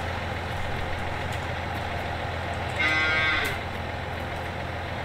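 A cow moos once in Landwirtschafts-Simulator 19, a short drawn-out bellow lasting under a second over a constant engine-like idling hum from a farm truck.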